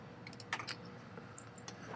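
Quiet typing on a computer keyboard, a handful of soft key clicks at uneven intervals over a faint steady background.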